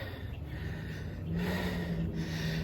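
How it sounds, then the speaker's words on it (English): Heavy, steady breathing close to the mic after running barefoot on grass, each breath loud and airy, growing a little stronger partway through, with no talking. "Hear my breathing?"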